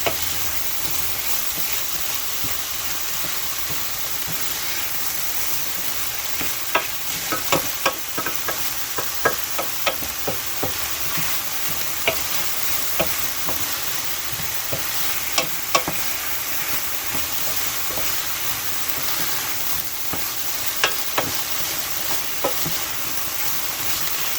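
Mushrooms fry in a skillet with a steady, loud sizzle, broken now and then by sharp pops and spatters and the scrape of stirring, with no voices over the cooking.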